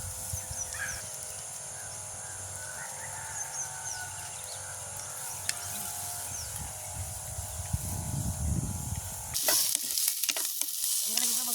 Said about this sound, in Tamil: வெங்காயம் பச்சை மிளகாய் நல்லா வதங்கி கொண்டு வந்துட்டுது